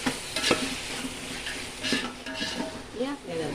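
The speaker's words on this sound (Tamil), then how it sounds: "இந்த பாருமா வெங்காயம் தக்காளி வதங்குது" Onion and tomato sauté in a pan with ginger, garlic and masala for chicken biryani, giving a steady frying sizzle broken by repeated spatula stirs and scrapes against the pot, close and fairly loud, with no talking.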